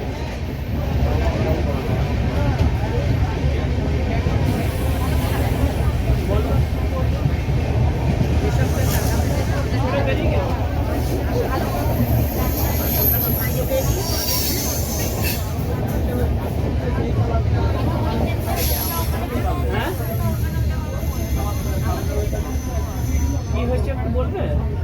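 The 12337 Shantiniketan Express runs at speed on the Kolkata route, a loud, steady roar of wheels and rattling carriages that continues throughout, with speech heard faintly over it.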